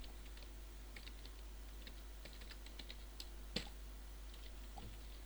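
Faint, irregular clicking of keys on a computer keyboard, scattered light taps across a quiet room with no voices.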